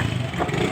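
Motorcycle engine on a road, a brief mid-pitched engine hum heard close by for under a second.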